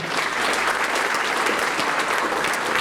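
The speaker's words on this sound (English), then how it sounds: "Big round of applause for our board." Hearty applause from a breakfast audience at a chamber of commerce annual meeting and awards event, dense steady clapping filling the room at full level throughout with no voice over it.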